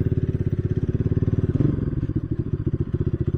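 A KTM Duke 250 motorcycle on a group ride runs close by with a loud, rapid, steady thumping engine pulse, surging briefly midway and then settling back into the same even chug.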